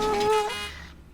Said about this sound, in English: It made a honk.